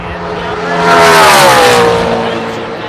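A NASCAR Xfinity Series race car roars past on the Charlotte Motor Speedway track during practice and qualifying, its engine swelling loud up close and then falling in pitch as it moves away.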